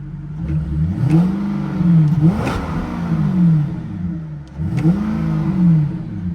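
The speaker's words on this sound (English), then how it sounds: "she is starting to warm up now, so let's give her a little rev" A car engine revs up and down several times nearby, the idle rising into rumbling swells and falling back.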